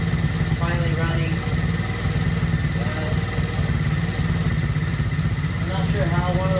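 The engine of a Tao Tao camo ATV, freshly repaired after carburetor and throttle trouble, runs steadily and loudly at a rough mid-pitched idle up close, with a person talking over it.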